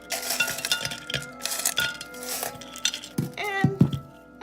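Rinsed lava rocks pour into a plant pot to form a drainage layer, a loose run of bright clinks and rattling clatter from the porous stones tumbling onto each other, close and fairly quiet.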